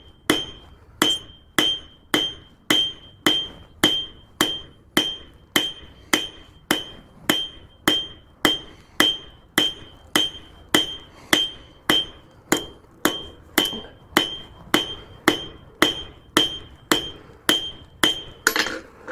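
A forging hammer strikes hot steel being rounded for a cabinet handle, a sharp ringing blow repeated roughly every half second in a steady rhythm, close and loud, with no talking.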